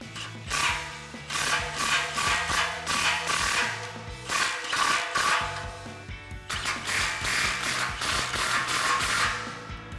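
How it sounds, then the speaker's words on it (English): A ratchet tightens the exhaust clamps behind the muffler of a Toyota Tundra Borla ATAK true dual exhaust system, giving steady rapid clicking strokes in two close, even bursts with a short pause between. "Now we'll snug down the 2 clamps at the back of the muffler."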